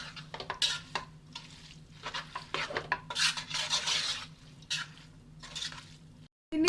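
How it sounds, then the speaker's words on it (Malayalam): Spaghetti noodles being mixed with sauce in a pan for an Indo-Chinese mixed non-veg dish, irregular scraping and clinking of a utensil against the pan in quick bursts, close and clear, with no talking. "ഇനി നമുക്കിത് നല്ലപോലെ ഒന്ന് മിക്സ് ചെയ്തെടുക്കാം. എല്ലാ ഭാഗത്തേക്കും സോസ് ആകുന്ന വിധത്തിൽ മിക്സ് ചെയ്തെടുക്കാം."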